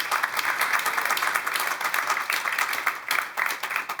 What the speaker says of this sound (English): a big round of applause for our panelists here today